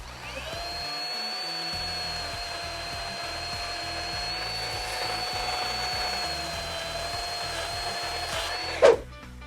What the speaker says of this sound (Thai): ตัวเลื่อย OCS 430ตัวนี้นะครับ สามารถตัดไผ่ ได้อย่างง่าย ๆ เลยนะครับ